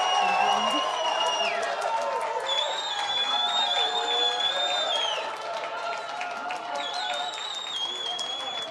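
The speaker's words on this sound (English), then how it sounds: "another round of applause for Anna Cherian" An audience breaks into sustained applause and cheering after a speech at a lighthearted April Fools debate event, with dense clapping, whoops and crowd voices throughout.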